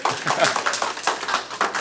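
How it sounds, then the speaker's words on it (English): Scattered audience clapping at a public hearing on a parks and recreation master plan: a steady patter of many hands, moderately loud, with faint voices beneath. "Yes, you can clap if you wanted to clap."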